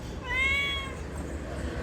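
A single drawn-out cat meow rises and fades, close by, against a low steady background hum, at a family campsite in the rain.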